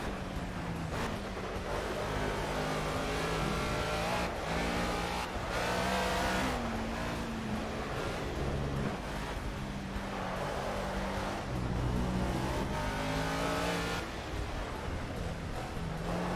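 A heavy race car in a racing video game revs and accelerates repeatedly, the engine note climbing and falling through gear changes, loud and continuous with no talk.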